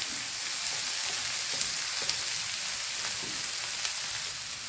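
Lentils roasting dry in a pan over a high flame for banana blossom thoran, a steady bright crackle and sizzle with light stirring scrapes throughout, close and continuous.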